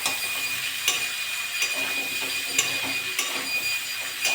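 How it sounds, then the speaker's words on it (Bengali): Prawns and greens stems frying in a pan with ginger paste while being stirred, a steady close sizzle broken by sharp metallic clinks of the spatula against the pan. "এটা নেড়ে চেড়ে নেবো।"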